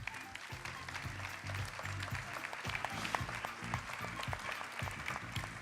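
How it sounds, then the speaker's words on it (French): An audience claps at a French corporate awards ceremony, steady dense applause from a full room that holds even for several seconds, fairly close, with no speech over it. "On peut les applaudir"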